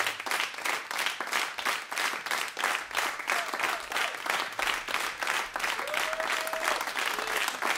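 Loud, sustained audience applause in Polish Radio's Studio S3 after a jazz performance, a dense rhythmic wash of many hands clapping close by for several seconds.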